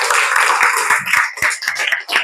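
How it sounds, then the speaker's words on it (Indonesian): A group claps hands together at the close of a school coaching lesson, producing a dense, loud, continuous patter of overlapping claps with brief uneven dips. "Oke, kasih tepuk tangan untuk kita semua."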